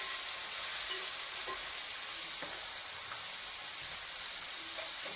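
Sliced onions sauté in a pan with a pinch of salt, a soft even sizzle with faint occasional stirring taps, steady and fairly quiet throughout.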